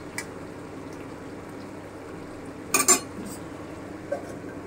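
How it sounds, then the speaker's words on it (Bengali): Chicken kosha cooking in a covered pot, mostly quiet bubbling background broken by one brief metallic clatter of a lid or utensil against the pot and a faint later clink. "আমি এইভাবে ঢাকা দিয়ে দিয়ে ভালো করে কষিয়ে নেব।"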